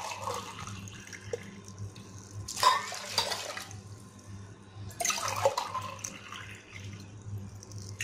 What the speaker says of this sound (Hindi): दो ग्लास पानी,